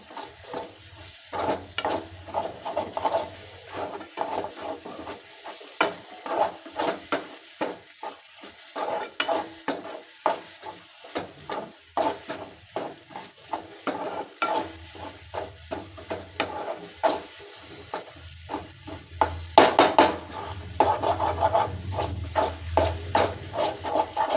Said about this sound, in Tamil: விடாமல் நல்லா கிளறிக்கிட்டே இருங்க